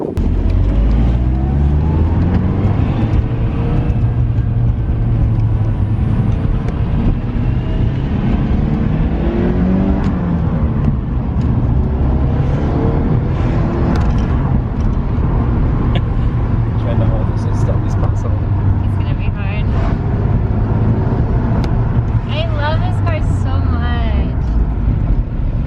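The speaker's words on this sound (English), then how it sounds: "I'm gonna drive this S13 Sylvia around the block really fast" A right-hand-drive Nissan Silvia S13 driven hard around a block, its engine droning loud and steady from inside the cabin, pitch rising and falling through revs and gear changes with no break.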